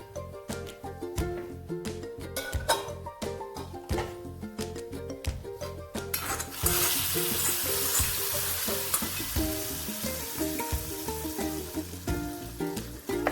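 Pineapple pulissery curry stirred in a pan with chilli powder just added, a spoon clattering rapidly against the pan before a louder wash of sizzling takes over, close and continuous, no voices.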